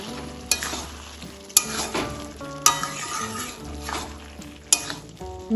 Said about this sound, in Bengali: একটু নেড়ে চেড়ে নেবো আবার।